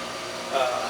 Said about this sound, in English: So that hum that we're hearing right now is the startup.